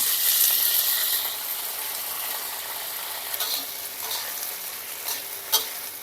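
Okra sizzles and crackles in hot oil with dried red chili and fenugreek, a steady bright frying hiss with occasional stirring scrapes, close and continuous without talk.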